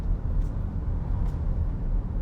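A 2006 Mercedes-Benz SLK280 with a V6 engine and 7G-Tronic automatic gearbox is driven, heard from inside as a steady, low engine and road rumble that stays even throughout, with no talking.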